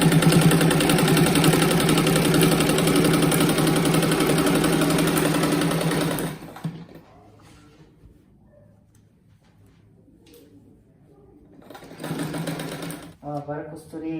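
A sewing machine stitches fabric scraps for a rag rug, running in one steady, close whirring run for about six seconds before stopping. After a quiet pause with faint background sounds, it gives another short burst of stitching.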